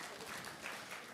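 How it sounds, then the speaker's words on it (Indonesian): Congregation applause during an onsite church service in Jakarta, a brief burst of steady clapping from many people, captured faintly at low level. "Beri tepuk tangan buat ibu itu tuh."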